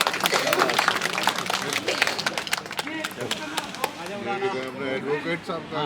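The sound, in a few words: audience applause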